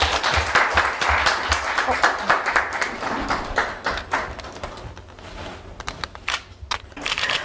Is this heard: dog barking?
no